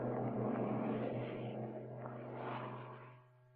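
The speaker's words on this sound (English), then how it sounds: "The aircraft is accelerating to a takeoff speed of 139 knots under its own power." A test aircraft accelerating under its own power toward takeoff speed for a crash test gives off a steady droning engine hum with a low rumble. It is faint and distant and eases off at the end.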